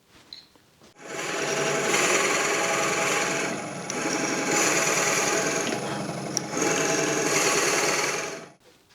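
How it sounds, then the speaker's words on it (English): A drill bores a hole in wood with a Forstner bit for a salt and pepper grinder recess, a steady, loud whirring grind lasting several seconds with brief dips, starting and stopping abruptly. "So I'll drill that hole quickly."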